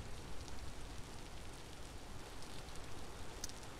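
Steady rain falls in the Vintage Story survival game, a soft, even hiss of drops hitting the ground with no break, heard faintly and alone.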